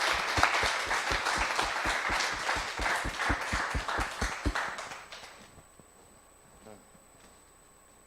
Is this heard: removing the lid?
no